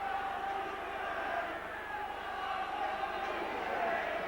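A rugby league crowd at an Oldham versus St Helens match in 1996 roars after a try, a steady, dense wall of cheering and shouting that holds at full volume throughout, with no pauses.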